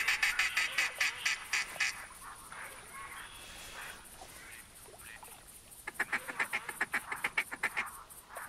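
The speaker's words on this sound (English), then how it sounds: "Come on home, duckies." A flock of ducks calls in the hunting game theHunter Classic, with rapid bursts of quacking at the start and again near the end, fairly faint over a soft background hiss.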